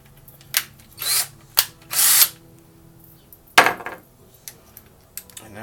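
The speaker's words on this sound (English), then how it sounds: "wire wheel things that go in your drill." Several short bursts of a power drill spinning a wire wheel to clean a lawn mower spark plug, whirring with a metallic scrubbing edge, separated by pauses, close and fairly loud.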